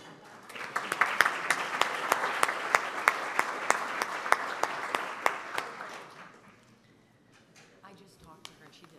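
An audience applauds a woman called up to walk forward at a 2015 event, steady dense clapping for about six seconds that then fades to scattered claps and quiet room noise.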